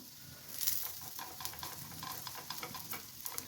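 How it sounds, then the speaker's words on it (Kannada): Masala akki roti roasts in oil on a pan, giving a steady, soft sizzle with faint crackling pops throughout and no talk over it. "ನೀಟಾಗಿ ಈಗ ರೋಸ್ಟ್ ಆಗ್ತಾ ಇದೆ"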